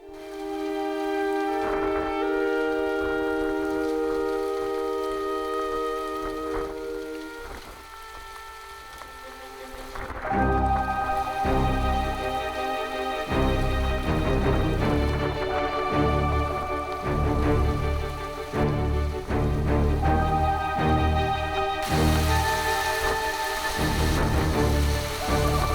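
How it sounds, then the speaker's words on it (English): A fast-moving rain shower sweeps over the Elbe river in Germany, a loud, continuous hiss of rain on the surface that holds steady throughout, mixed with sustained tonal sounds. "The MSC liner was overtaken by a rain shower that came fast in my direction."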